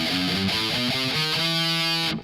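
Distorted electric guitar runs through a harmonic minor scale, single notes stepping one after another, loud and close, with no voices.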